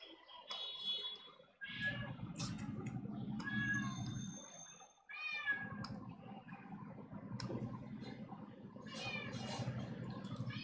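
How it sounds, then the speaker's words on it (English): A pet cat meows repeatedly nearby in a quiet room, a string of several drawn-out cries with short pauses between them, alone without talk. "my cat is interrupting"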